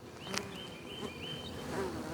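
Honey bees buzz around a hive being split in spring, several close passes droning and whining over a soft background hum that rises and falls, with no talking.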